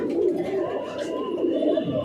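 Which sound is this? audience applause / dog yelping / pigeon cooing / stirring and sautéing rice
pigeon cooing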